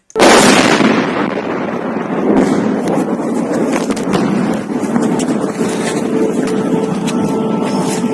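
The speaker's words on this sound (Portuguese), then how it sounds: "E tem aqui também o som dos ataques em Nova Kakhovka" A heavy blast from an attack in Nova Kakhovka, Ukraine, booms loudly at the start, followed by a long rumbling roar with wind buffeting the microphone and scattered crackles, heard at a distance.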